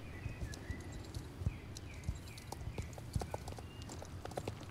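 Horse hooves clip-clop in a steady walking rhythm in the video game Star Stable Online, close and fairly quiet, with faint bird chirps and ambient background.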